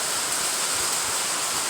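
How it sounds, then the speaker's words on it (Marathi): Heavy rain slants down on a blustery wind during the first big downpour, a dense, steady roar that fills the whole stretch close by, with no voices. "आता खूप वाढलाय पाऊस. तिरका तिरका पडतोय एकदम."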